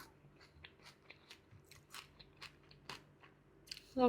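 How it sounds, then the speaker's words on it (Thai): Crunchy candied Indian jujube being bitten and chewed close up, a series of crisp sharp crunches spread irregularly across a few seconds. "กรอบแล้วก็หวานฉ่ำ"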